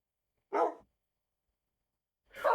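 Dogs barking in the video game Minecraft with the Minecolonies mod: two short, loud, isolated barks about two seconds apart, with silence in between.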